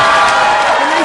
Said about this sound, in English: And they cheering.